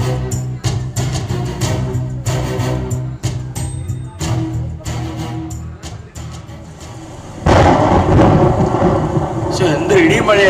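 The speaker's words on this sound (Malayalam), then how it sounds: "എന്ത് ഇടിയും മഴയായിരുന്നു" Heavy thunder rolls and cracks in repeated loud bursts over a roar of downpour, and the rain swells even louder toward the end.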